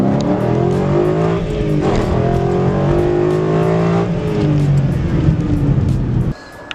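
A Ford Mustang 5.0 V8 with a BBK cold air intake revs up and down repeatedly, a deep throaty roar rising and falling close by, then cutting off abruptly at the end.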